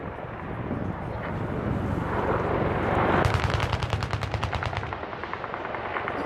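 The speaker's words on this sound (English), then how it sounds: "watch Gunship 1 tip in for the engagement with 30mm cannon." Rapid 30mm cannon fire from an Army Apache helicopter at an airshow demo rattles out in a fast, continuous burst over a droning aircraft engine, loud and close, then tapers off.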